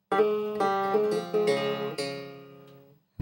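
Krar playing an ambassal-scale melody with added ornamentation, a quick run of plucked notes with small grace-note flourishes, close and resonant, fading out before a new pluck at the end.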